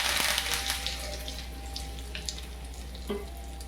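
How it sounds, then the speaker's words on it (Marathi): Curry leaves added to hot oil with mustard seeds for a chutney tempering give a loud sizzling burst that slowly settles into a softer steady hiss, close up, with a couple of faint clinks near the end. "आणि हा कढीपत्ता टाकते"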